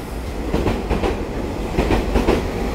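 A Taiwan Railway train rolls into a station, its wheels giving a steady rhythmic clickety-clack over rail joints, loud and close, with no voices.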